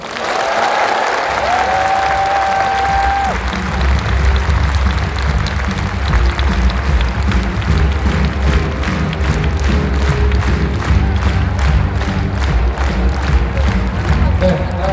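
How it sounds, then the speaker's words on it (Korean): A convention-hall audience at Inspire Arena in Incheon applauds after a speech, with sustained dense clapping and some cheering that fills the hall for the full stretch. Music plays underneath. "지효 대표님께 다시 한번 큰 박수 보내주시면 감사하겠습니다"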